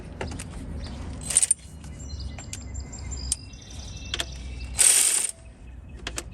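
A hand ratchet works a 10mm nut off the alternator of a Toyota Corolla, making quick metallic clicking bursts close by, with short pauses between the turns.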